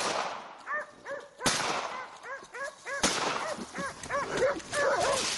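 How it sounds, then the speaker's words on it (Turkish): Several hunting dogs bark and yelp excitedly outdoors in a forest during a wild boar hunt, with sharp bursts and overlapping cries, punctuated by a couple of loud shotgun cracks. "Bolu'da ormanlık alanda köpekleriyle ava çıkan Ahmet Çoban iki yaban domuzuna rastladı"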